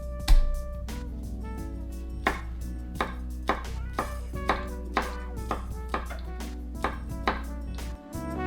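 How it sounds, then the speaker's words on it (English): Three garlic cloves chopped with a knife on a board for chicken kebab, a steady series of crisp, close knocks roughly once or twice a second with no talking. "So our next things chopped is our garlic."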